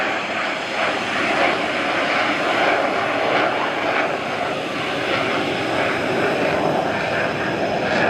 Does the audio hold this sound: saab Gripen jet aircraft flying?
yes